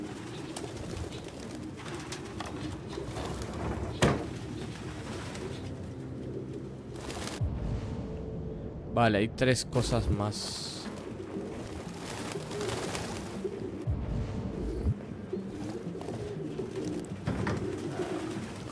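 Pigeons coo in a nest scene in the Detroit: Become Human video game, their low, throaty calls repeating near and steady, along with fluttering bursts and a few quiet spoken words.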